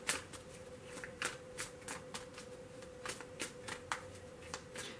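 Tarot cards shuffled by hand, given a bridge finish, a steady run of soft crisp riffling flicks at close range over a low hum, with no talk.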